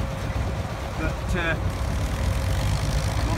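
An International crawler tractor's engine runs with a steady low rumbling drone that holds throughout, with a person speaking briefly over it.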